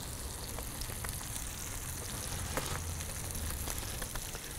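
Hot chili seeds dropping into a sizzling salmon butter sauce, a dense continuous frying hiss with faint crackles, close and steady throughout.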